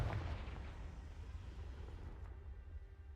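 A Confringo fire-blast spell in a Hogwarts wizarding video game erupts as a booming, rumbling explosion, then lingers as a continuous low roar and crackle throughout.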